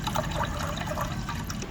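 Water poured into a cooking pot of pork humba, a steady, close liquid pour and trickle running without a break throughout.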